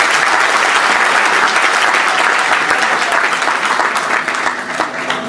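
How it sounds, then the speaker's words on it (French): An audience claps loudly and steadily at a business presentation, a dense sustained roar of applause that fades slightly toward the end. "Applaudissez pour vous."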